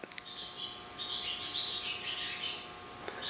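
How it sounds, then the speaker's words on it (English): Bird chirping just outside a doorstep, picked up by a clip-on mic: a steady run of thin, high tweets and trills lasting several seconds, moderately faint and alone without talk. "there is a bird that's chirping outside"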